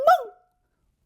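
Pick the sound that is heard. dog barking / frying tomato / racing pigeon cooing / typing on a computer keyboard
dog barking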